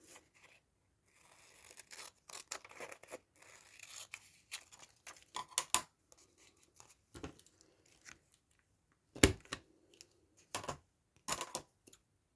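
Paper being cut with scissors for a craft journal pocket, with irregular bursts of crisp snipping and rustling separated by short pauses, fairly close and moderately loud, with no talking.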